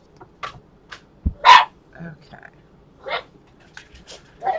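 Indoor dogs barking in short scattered bursts, one louder bark standing out among fainter yips, with a brief spoken word in between.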